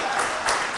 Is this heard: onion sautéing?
no